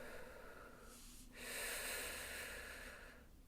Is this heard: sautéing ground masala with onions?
no